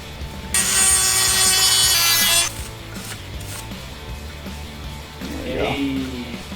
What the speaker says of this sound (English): I used to hate cutting down bolts, but I mean, really, the Dremel makes it really easy.